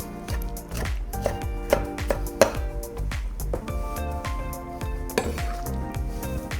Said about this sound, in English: And spin and cut. And spin and cut through.